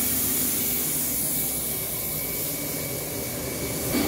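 Diesel wash is sprayed over a car engine in a continuous loud hiss that holds steady from start to finish, with no voices over it.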